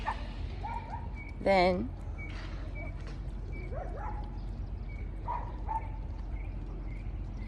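A dog barks behind a fence somewhere off in the distance, a few faint yips and barks scattered over someone talking close up against a steady outdoor rumble.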